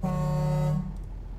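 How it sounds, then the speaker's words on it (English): A single steady blast of a truck horn on an Iveco 190 38 mod in Euro Truck Simulator 2, a loud buzzy tone held under a second before cutting off, then a brief quiet tail. "That is a really, really cool horn."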